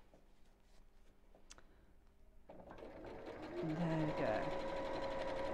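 A sewing machine top stitches a messenger bag, starting partway through as a steady whirring hum that builds louder and close, preceded by soft handling sounds, with a brief spoken remark during the clip.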